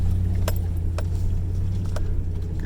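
A Toyota off-road truck engine climbs a steep slickrock grade at Hell's Revenge in Moab, giving a steady, close, low drone with a few faint clicks over it.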